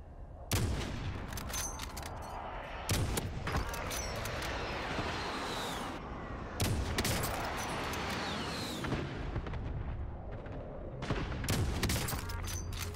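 An AX50 sniper rifle in Call of Duty Warzone fires about five loud, sharp shots spaced a couple of seconds apart, each with a booming, echoing tail, and no voices in between.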